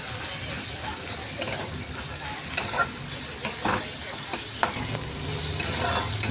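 Green chillies fry in a pan as a spoon stirs them, a dense continuous sizzle with scattered metallic scrapes and taps against the pan, close and loud.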